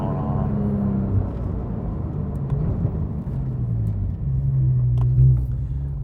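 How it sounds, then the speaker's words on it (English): Porsche 991 GT3 with Dundon Motorsport exhaust and headers, driven off and on the throttle, gives a steady low engine rumble with swelling and easing pulses, heard close from inside the car. "I don't normally drive like this where I'm off and on the throttle,"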